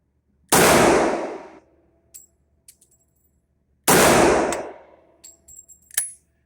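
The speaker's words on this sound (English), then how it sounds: "A couple more shots." Two sharp, loud shots from a Smith & Wesson 4006 .40 caliber pistol crack a few seconds apart, each with a short ringing tail, followed by faint clinks and handling noises.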